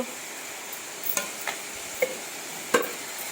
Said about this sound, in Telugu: అది వేసి మొత్తం మళ్ళీ కలబెట్టుకోవాలి